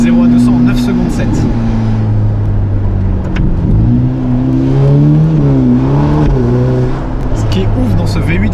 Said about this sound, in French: Ce qui est ouf dans ce V8 Ferrari, c'est qu'il n'est pas creux du tout à bas régime.